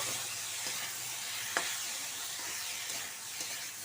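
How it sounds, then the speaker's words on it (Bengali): Samosa vegetable filling with turmeric mixed in a hot pan: a soft, even sizzle hisses throughout, with a few faint scrapes of stirring, quiet and close, with no voices. "ভালো করে মিক্স করে নেব"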